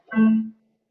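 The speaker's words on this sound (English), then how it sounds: "this is the sound of A3." A single short musical note, A3, sounds once, clear and tonal with bright harmonics, then fades quickly into silence.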